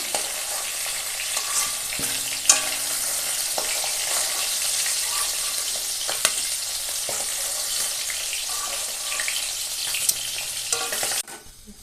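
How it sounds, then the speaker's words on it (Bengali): Hilsa fish fries in hot oil in a home kitchen, giving a steady, dense sizzle for about eleven seconds with occasional pops and stirring scrapes. It cuts off abruptly near the end. "যে মাছ ভাজা তেলে সেই তেলেই"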